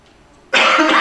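A single sharp cough bursts out after a moment of near silence, close and loud.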